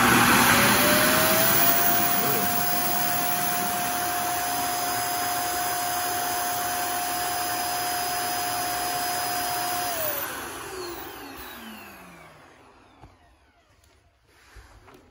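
A Proscenic M7 Pro robot vacuum empties itself into its self-emptying dock with a loud, steady roaring whoosh and a high whine, holding for about ten seconds before winding down and fading out.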